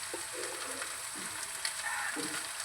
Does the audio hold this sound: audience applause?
no